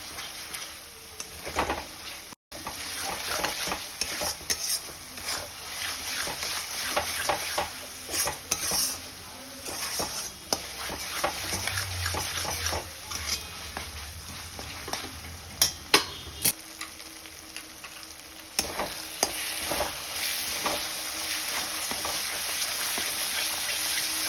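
Spice paste is stir-fried in a pan with a continuous sizzle broken by repeated scraping and clinking of a spoon against the metal, sustained and close.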